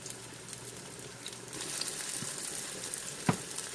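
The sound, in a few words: frying breaded tofu pieces in a pan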